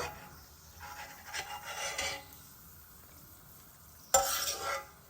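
Cashews fry in a pan and are scooped out, with a soft rasping scrape and faint sizzle early on, a quiet stretch, then a sharper, louder scrape near the end; no speech.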